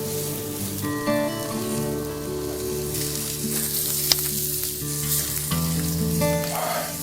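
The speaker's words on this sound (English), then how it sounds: "take the tenderloin over to the char grill with our wonderful jus" Beef tenderloin sears on a char grill in a backyard, a loud, steady close-up sizzle and crackle running the whole time, with sustained background music tones underneath.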